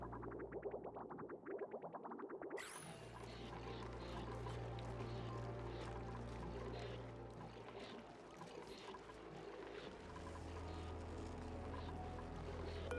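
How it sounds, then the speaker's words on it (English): Hot water flows and gurgles through pipes in the colony-building game Oxygen Not Included. It rises as a steady, fairly loud wash after a couple of seconds of quieter sound, over sustained low ambient tones. "That's the hot water."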